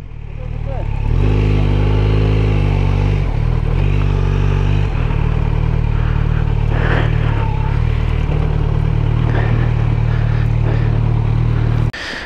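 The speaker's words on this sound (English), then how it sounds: "and there's Chriso riding my beautiful, beautiful Z900" A Kawasaki Z900 motorcycle being ridden, its engine droning steadily and loudly close by with shifts in pitch as the rider changes speed, plus some clatter near the start.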